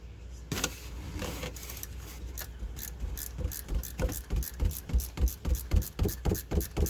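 A ratchet wrench loosens the alternator bolt on a Lexus ES350 with the 3.5 V6, worked from underneath. Close, crisp ratcheting clicks come in bursts and settle into a steady, quicker rhythm near the end.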